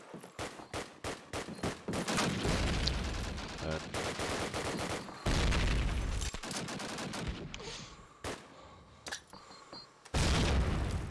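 Gunfire and a grenade blast in a Call of Duty: United Offensive match, with dense rapid bursts of rifle and machine-gun fire, heavy booms and brief pauses, loud and close throughout.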